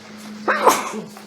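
A single sharp sneeze bursts out over a quiet room hum during a finance committee meeting, followed by a brief trailing breath.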